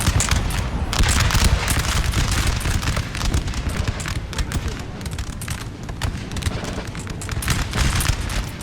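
Musket volleys in the battle game Napoleon Total War rumble on as a dense, continuous crackle of many overlapping shots and booms, a thick wall of distant massed gunfire.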